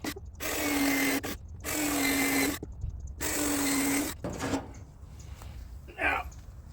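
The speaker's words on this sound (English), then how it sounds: "So I'm just going to go ahead and drill out my holes" A power drill whirs drilling holes in wood in three sustained bursts with short pauses between, close and loud, then quieter handling noises follow.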